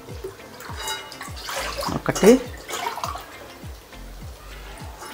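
Glasses of water pour onto rice in a pot while chicken biryani is being cooked, a splashing, gurgling pour under a voice counting aloud, with a steady ticking in the background.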